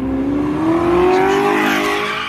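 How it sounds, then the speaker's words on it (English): An Audi sports car with 600 horsepower and custom matte black paint is driven hard, its engine note climbing steadily as the tires squeal, loud and close, with no talking. "he was whipping the Audi"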